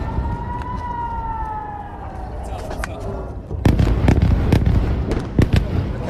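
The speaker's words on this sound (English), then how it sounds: "the sirens are near non-stop in towns close by." A wailing air raid siren rises and falls in the distance in Israel, then sharp loud bangs and cracks burst out over it.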